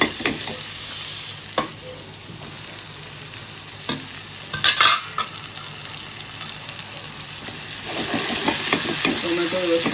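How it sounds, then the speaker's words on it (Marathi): Finely chopped tomato frying in a pan, a steady close sizzle with the clink and scrape of stirring, growing louder toward the end. "आता आपण याच्यामध्ये बारीक चिरलेला टोमॅटो टाकूया."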